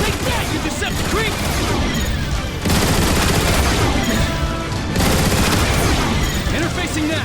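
Turret gunfire in the video game Transformers War for Cybertron, set in the city of Iacon: dense, continuous rapid-fire bursts with booming impacts, loud and sustained throughout.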